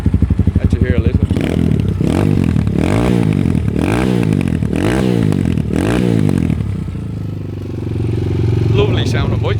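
A Slam SMX 250 motorcycle, a big-wheeled 250 with electric and kick start, runs close by and revs in a string of repeated throttle blips before settling to a steady idle.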